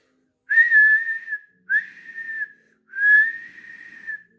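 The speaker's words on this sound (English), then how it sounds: "Whistled Thomas in alarm." Three long high steam engine whistle blasts in a row, clear and steady, with short pauses between them.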